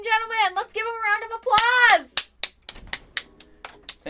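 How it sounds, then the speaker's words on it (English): After a voice speaks in a drawn-out, sing-song way, a short round of applause follows: a handful of sharp, close hand claps at an uneven rhythm, then silence. "Let's give him a round"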